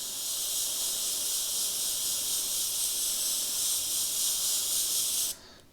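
Steady airbrush hiss of compressed air held on continuously while colouring in an edge up close, loud and unbroken until it cuts off near the end.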